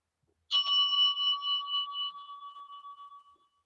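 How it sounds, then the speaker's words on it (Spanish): A single meditation bell is struck once and rings out with a clear, sustained tone that slowly fades over a few seconds in an otherwise quiet room. "cuando escuchen la campana cierren los ojos"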